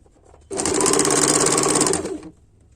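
An electric sewing machine stitches suit and blouse fabric in one loud, fast, steady burst of about two seconds, starting and stopping abruptly against a quiet room.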